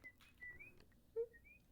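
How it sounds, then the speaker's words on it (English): Short whistled bird calls heard inside a VRChat game world, a few thin chirps and tweets with gaps between them, faint and with no talking. "I hear a bird."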